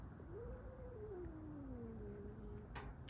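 A cat growls to protect her territory, giving a low, drawn-out caterwauling moan that rises and falls over about three seconds, faint against a quiet indoor background.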